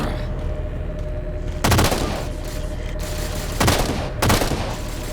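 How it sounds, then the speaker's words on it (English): Gunfire in the Halo 4 campaign, three loud bursts of rapid shots cutting over a constant rumbling game ambience, each lasting about a quarter second and spread across a few seconds. "Taking fire, starboard side!"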